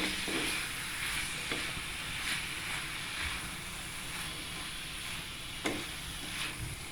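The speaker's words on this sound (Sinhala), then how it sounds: "මේක හොඳට හැන්දකින් කවලම් කර ගන්නවා" Mushrooms in oil stirred with a spoon, giving a steady soft sizzle and hiss with faint scraping strokes throughout.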